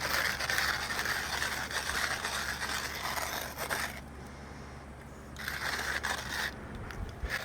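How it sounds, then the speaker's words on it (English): Coffee beans being ground by hand in a manual grinder, a steady, close, gritty crunching and grating that pauses briefly before resuming. "I find that if I grind the coffee myself, I feel like I deserve it more, like hand grind it"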